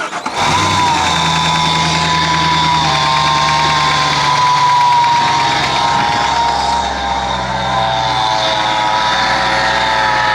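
A steady 2024-style engine runs continuously at a loud idle, with a deep rumbling hum and a high power-steering whine layered on top, close by and without talk.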